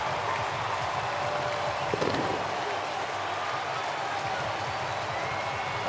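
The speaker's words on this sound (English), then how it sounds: "Listen to this crowd." A packed baseball stadium crowd cheers after a St. Louis Cardinals home run laced into the left-field box seats, a dense, steady roar of voices with scattered clapping that stays loud throughout.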